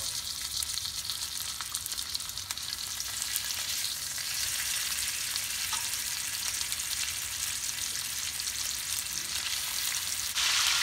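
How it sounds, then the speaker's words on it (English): Beef short ribs searing in hot oil give a continuous, even, hissing sizzle that holds close and steady for about eleven seconds, with no voices. "I think our oil is hot already. Let's start searing it."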